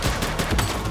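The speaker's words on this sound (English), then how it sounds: "She's shooting!" Rapid bursts of gunfire in The Precinct, a police action video game, crackling and dense across the whole second, loud and close with no talk over it.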